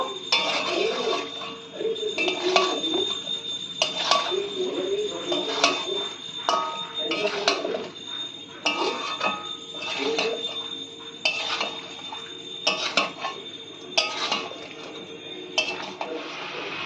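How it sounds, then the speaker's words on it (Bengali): Soya chunks mixed with red chili sauce in a pan, a metal spatula clattering and scraping against the pan in repeated close strokes, with a voice talking faintly at times. "সমস্ত সস দিয়ে এবার ভালো করে সোয়াবিনটাকে মিশিয়ে নেব"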